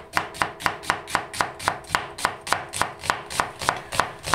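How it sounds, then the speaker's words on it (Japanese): A knife thinly slices onion on a cutting board, about four crisp strikes per second, close and even, with no voices. "玉ねぎは薄切りにします。"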